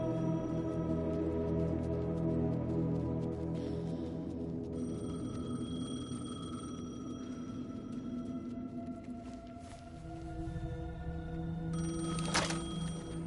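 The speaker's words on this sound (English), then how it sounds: "The payphone was ringing." A payphone rings inside the video game Alan Wake 2, its repeated electronic ringing tones steady over a dense, droning ambient score that fills the whole stretch at moderate loudness.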